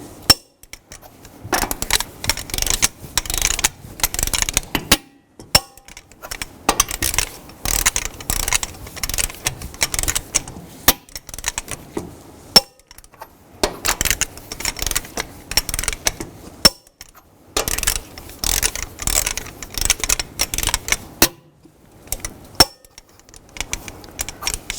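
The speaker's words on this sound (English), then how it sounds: "Now I'm going to torque the lug nuts in a cross pattern to 140 foot-pounds." Clicking, rattling metallic bursts of a torque wrench tightening lug nuts on a 2010-2017 Chevrolet Equinox in a cross pattern to 140 foot-pounds, coming in repeated rounds separated by short pauses, close and fairly loud with no talking.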